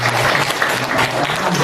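A church congregation applauding after a homily: steady, dense clapping from many hands throughout, fairly close and even in loudness.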